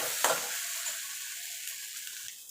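Long beans fry in a wok for bharta, giving a soft, close sizzle that opens with a brief stirring scrape and then tapers off quietly.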